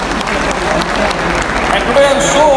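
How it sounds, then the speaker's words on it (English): An audience applauds a guest couple at an evening event with a DXN speaker, steady dense clapping throughout with a faint whistle and some voices near the end. "Give them a big round of applause"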